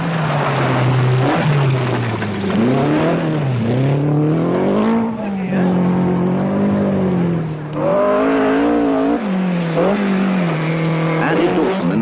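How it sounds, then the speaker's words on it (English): A Datsun Violet rally car on a stage accelerates hard, its engine note climbing and dropping repeatedly through gear changes, loud and close throughout. "Andy Dawson in the Datsun Violet, going well."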